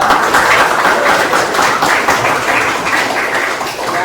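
A classroom of students applauds for a classmate named Ina, a steady, dense wash of clapping hands lasting several seconds at close range, fading slightly at the end.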